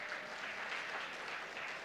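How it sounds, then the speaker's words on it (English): A conference audience at a tech-economy welcome address breaks into applause, a soft, even wash of many hands clapping throughout, somewhat distant. "Give them a round of applause."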